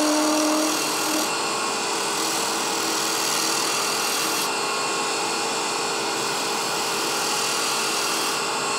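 A hollow wooden sphere half chucked out of balance on a lathe with a bad bearing spins steadily, giving a loud, continuous whirring drone with no break and no talk.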